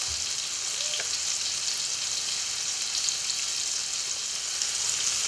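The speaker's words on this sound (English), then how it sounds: "This fish is cooking very nicely on a high heat." Sea bass fillet frying in a pan over high heat, a steady, bright sizzle running throughout with no one talking.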